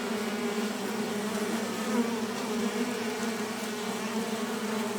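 Steady, close buzzing of bees droning continuously, a low hum with no pauses.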